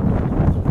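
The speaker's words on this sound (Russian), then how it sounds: "Ой, какой хороший ветер, друзья." Steady wind rumbling against the microphone outdoors on a warm breezy day, a continuous low buffeting that fills the whole moment with no voices.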